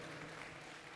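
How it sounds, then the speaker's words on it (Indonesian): A brief, faint burst of audience clapping at a formal event honors Am Sapulete, a dense, even patter lasting about a second. "tepuk tangan buat Bang Am Sapulete"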